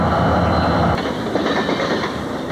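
An eastbound freight train off the Reading line rumbles past close by, a steady heavy roar with a rhythmic clickety-clack of wagon wheels over rail joints throughout.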